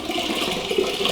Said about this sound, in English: Guess this is not a good jar to pour from.